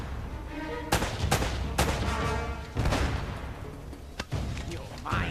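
Shotgun gunfire in an Uncharted video game, with several loud, sharp blasts spaced irregularly over a few seconds and background game noise between the shots.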